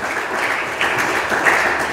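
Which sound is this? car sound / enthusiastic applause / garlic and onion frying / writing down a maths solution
enthusiastic applause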